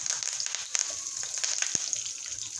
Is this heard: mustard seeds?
yes